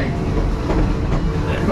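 An amusement park train ride rumbles along with a continuous loud, close rolling drone of wheels and cars, steady throughout with no clear talk over it.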